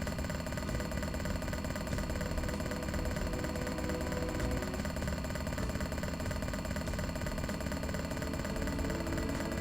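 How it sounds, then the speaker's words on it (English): A jackhammer in Tex Murphy: The Pandora Directive pounds continuously with a dense, rattling, even roar that never lets up, loud and close throughout. "I can't hear you over the jackhammer."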